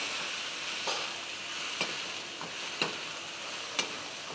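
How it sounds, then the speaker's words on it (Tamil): Country chicken frying in oil with shallots as it is stirred, a steady quiet sizzle broken by several sharp scrapes of the spoon in the pan, with no voices. "நல்லா சின்ன வெங்காயம் வதங்கிருச்சு. இப்போது இதில் நம்ம சிக்கனை சேர்த்துறோம்."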